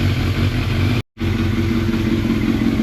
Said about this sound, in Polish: dopiero motocykl zaczął ładnie pracować